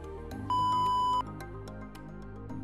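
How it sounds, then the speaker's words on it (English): A single short electronic beep from an R-net wheelchair joystick module, held back to enter Bluetooth pairing, sounds at a steady pitch for under a second over faint background music. "Pull the joystick backwards for 10 seconds until a short beep is heard"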